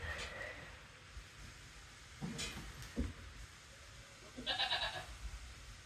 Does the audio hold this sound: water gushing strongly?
no